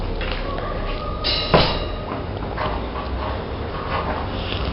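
Puppy whimpering and yipping softly while it plays, small squeaks and snuffles close by with one sharper yelp in the middle, over steady indoor background noise.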